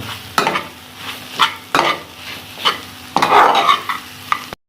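Kasuri methi is roasted in samosa filling in a pan: a spatula scrapes and stirs in a regular rhythm about every second and a half, each stroke bringing a burst of close, crisp sizzling.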